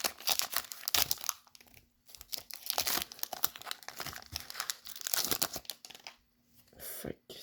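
A Pokémon card tin and booster pack being opened, with close, crisp crinkling and tearing of the foil wrapper in irregular bursts and brief pauses, no talking.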